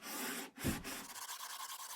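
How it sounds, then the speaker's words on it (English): Sanding block with 150 grit worked in long smooth strokes along the grain of a wooden military rifle stock, a steady close abrasive rubbing with a short pause near the start. "I'm starting with a sanding block and long smooth strokes down the length of the stock"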